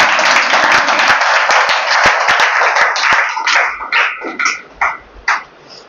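A coaching class of students claps loudly together in a dense, sustained burst of applause that breaks into separate claps and thins out toward the end.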